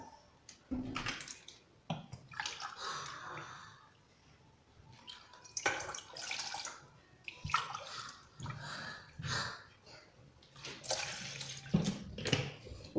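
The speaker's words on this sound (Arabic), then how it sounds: "زوج كيسان تاع الماء،" Water is poured into a mixing bowl for Algerian zlabia dough, coming in several uneven bursts of splashing and trickling, close and moderately loud with short pauses between pours.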